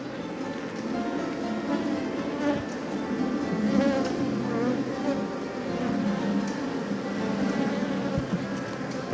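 Honey bees from a well-populated open hive drone in a dense, continuous buzz that holds steady throughout at close range.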